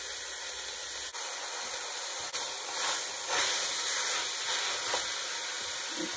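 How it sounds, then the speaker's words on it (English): Ground meat and Italian sausage sizzling in a pan: a steady, bright hiss and crackle with faint stirring scrapes, close and continuous, no talk. "first we're gonna put our ground meat in. Our Italian sausage."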